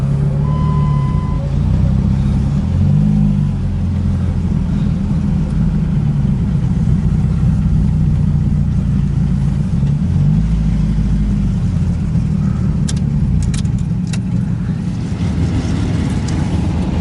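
A car engine drones loud and close throughout a race, rising and falling in a steady rumble, with brief revving surges and no clear talking.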